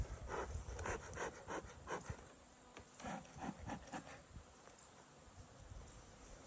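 Bees in the brown apiary around a single hive, a dense close buzzing drone with pulsing rises and falls as insects fly near, fairly quiet overall with no talking.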